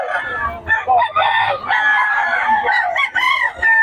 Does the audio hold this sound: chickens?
yes